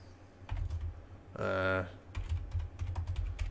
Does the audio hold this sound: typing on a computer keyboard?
yes